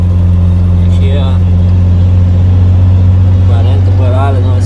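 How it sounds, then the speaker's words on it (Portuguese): A loaded truck hauling potatoes drones loudly with a steady low engine hum from inside the cab while people talk over it. "Bora acelerar agora."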